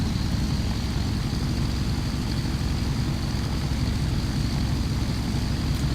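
A Douglas DC-3 taxis in Microsoft Flight Simulator X, its propeller engines giving a steady, even drone with a faint high whine, unbroken and without voices throughout.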